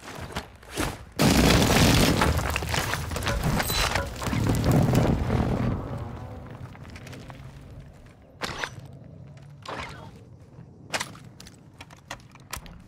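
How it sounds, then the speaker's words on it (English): Heavy, rumbling booms from an airstrike in the Call of Duty: Modern Warfare II video game, a sustained loud blast that fades out, followed by scattered sharp cracks and clicks. "Hostile airstrike near your location"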